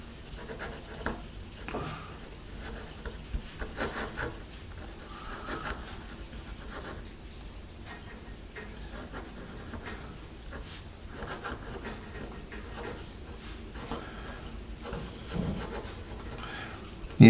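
A Jot gel pen scratches across paper in a steady, close, quiet rasp with small irregular strokes and pauses, no talk.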